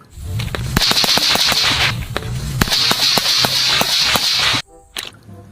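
A toy M4 gun fires a rapid electronic burst of sharp repeated shots over a whirring tone. The burst pauses briefly, resumes in a long run, then cuts off abruptly and leaves a few faint clicks.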